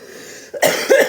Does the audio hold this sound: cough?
yes